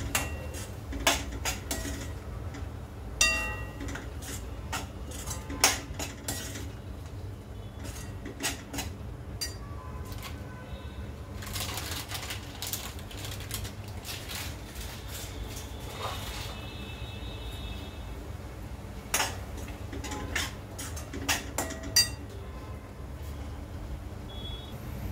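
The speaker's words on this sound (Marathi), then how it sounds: "परतून घेऊया।" Chopped green beans sauté in a pan for hariyali rice, with a steady low sizzle under repeated sharp clinks and scrapes of a metal spoon against the pan, close by and continuing for about twenty-five seconds.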